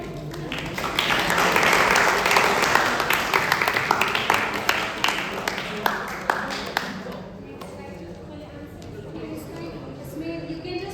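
Students at a quiz orientation programme applaud, a burst of many hands clapping that swells, then thins to a few scattered claps as talking continues.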